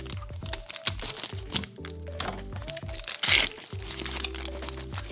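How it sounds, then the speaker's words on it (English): Packaging for a SIRUI 35mm anamorphic lens crinkles and crunches close by as it is unwrapped, in repeated crackling bursts and tearing rustles with a louder crackle near the end. "It's in some packaging as well,"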